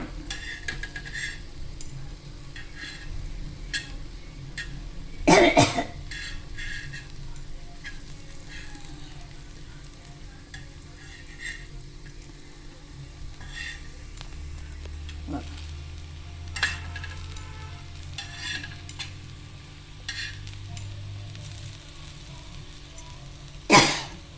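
Potato slices frying in a pan, a soft continuous sizzle throughout, with a couple of sharp scraping clatters as the slices are flipped and a low hum in the background.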